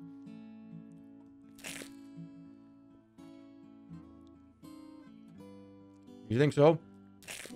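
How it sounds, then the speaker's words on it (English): Loud, close crunching bursts of someone chewing a crunchy snack, with a couple of quick bites near the end, amid people talking and a faint background hum. "Do you think that crunch is a soundboard?"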